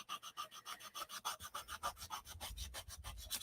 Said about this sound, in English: it would take a lot more than me just sanding on it to get that off